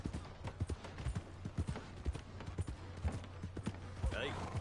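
Horse hooves clip-clop in a cowboy video game, a close, quick rhythm of clattering steps under faint ambient sound, with a brief vocal-like burst near the end.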